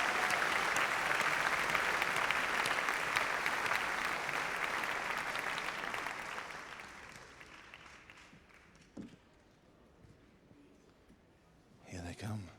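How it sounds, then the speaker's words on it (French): A large crowd at a film premiere applauds loudly and steadily, the clapping fading out over several seconds into near silence, with a brief rustle near the end. "des applaudissements."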